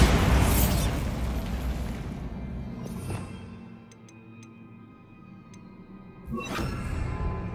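Bombarda spell in the Hogwarts Legacy video game, a loud booming blast that fades into a quieter stretch of small ticking sounds before a second burst near the end.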